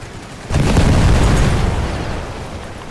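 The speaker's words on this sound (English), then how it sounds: "Get the grenades going." Grenade explosions in the World War I strategy game The Great War 6.0, heard as a sudden loud boom that swells into a dense, rumbling blast and slowly fades over a couple of seconds.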